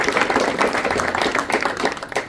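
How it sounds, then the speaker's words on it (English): A quick round of clapping from a reception crowd at a scientific conference gathering, dense and steady for a couple of seconds. "So quick round of applause for all of the speakers."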